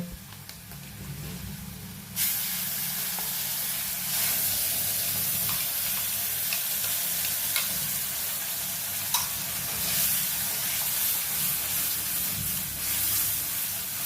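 After a couple of quiet seconds, a loud sizzle erupts as ground spice paste hits a hot pan, frying steadily, with faint stirring scrapes and clicks.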